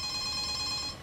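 A telephone rings in a home, a steady electronic trill with even repeating pulses held for about a second, fairly faint and heard alone.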